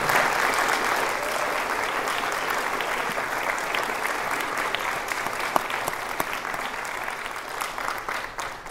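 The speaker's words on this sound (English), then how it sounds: "I would love it if we could give them a round of applause for all that they do." A graduation audience for the Class of 2024 applauds faculty and staff, with sustained, even clapping from a large crowd that continues strongly throughout.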